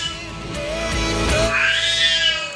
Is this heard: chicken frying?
no